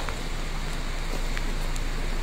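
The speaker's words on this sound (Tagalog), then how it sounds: "Grabe ulan." Heavy rain pouring steadily over an outdoor parking area with a garden-style setting, a dense continuous hiss with no pauses, fairly close and loud throughout.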